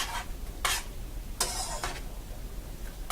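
Rice pudding with raisins being stirred in a pot, a few soft scraping swishes of the spoon at intervals over a low steady background, fairly close and with no talking.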